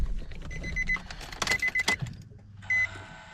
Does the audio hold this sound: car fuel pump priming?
yes